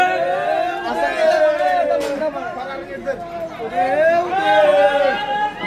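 Dense crowd chatter among pilgrims on a Kavad yatra foot procession toward a temple, many overlapping voices close by in a continuous busy hubbub.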